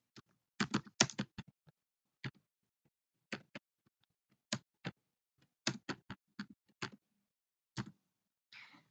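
Typing on a computer keyboard while making a PowerPoint slide: sparse, crisp key clicks come singly and in short bursts, close by in an otherwise quiet room with no talking.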